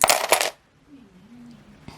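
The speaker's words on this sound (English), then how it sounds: "now I will shuffle them for you and let them fall" Rune stones rattle and clatter together as they are shuffled in the hands, a loud close burst of clicking knocks followed by near silence, then one faint click as a stone falls onto a grid.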